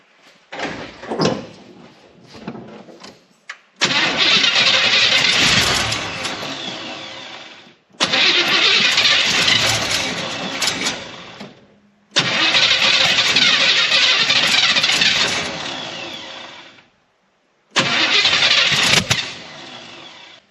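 A 1983 C30 engine with timing trouble cranks in several long bursts of about four seconds each, sputtering and catching unevenly, loud and close, with short quiet gaps between attempts.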